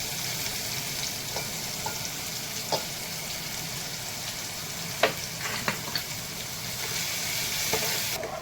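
Chopped onion fries in oil in a pan for a Bombay duck bhurji, giving a continuous close, even sizzle with a few soft clicks from a spatula stirring it now and then.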